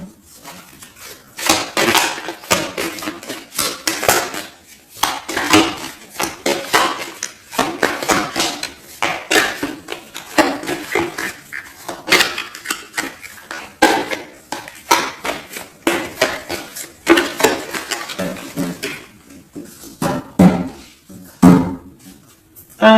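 Tarot cards are cut and shuffled by hand, a dense run of crisp papery slaps, flicks and riffles that goes on steadily for the whole stretch, close and fairly loud, with no talking.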